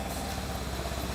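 A forklift engine idling after starting, a steady low mechanical rumble with an even, rapid pulsing throb, moderately quiet and with no talk.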